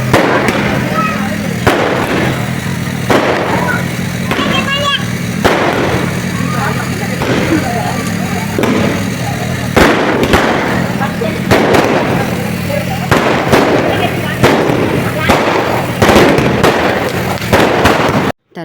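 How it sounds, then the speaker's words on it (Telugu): Firecrackers burst loudly and repeatedly at a neighbourhood Ganesh idol immersion at night, with sharp bangs in irregular volleys close by, under intermittent talk and crowd noise. "వినాయకుడి ముందు టపాకాయలు అయితే కాల్చేశారండి"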